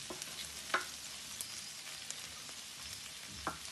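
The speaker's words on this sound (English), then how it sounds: "So the pasta starts to brown" Orzo pasta toasts in a hot pan with a continuous soft sizzle and crackle, occasional light stirring scrapes popping out, close and steady with no voices.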